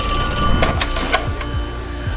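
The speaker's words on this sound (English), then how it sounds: "the phone rang again." A telephone bell ringing in a thriller movie scene, with repeated rings over a steady background of room tone and score.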